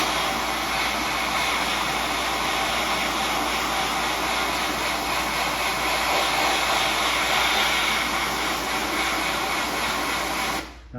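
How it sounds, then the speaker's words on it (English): A paint spray gun hisses steadily while spraying car paint in a spot repair on an Oldsmobile Vista Cruiser, mostly air with little paint, a loud, close, unbroken rush that cuts off abruptly at the end. "So basically I'm spraying more air than I am paint."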